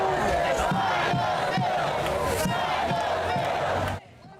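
Protesters picketing outside the Connecticut governor's mansion chant loudly in unison, a rhythmic crowd roar with pulsing shouts that cuts off abruptly near the end, leaving faint background noise.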